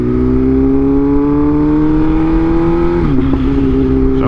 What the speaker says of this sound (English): I'm just shifting without using the quick shifter now.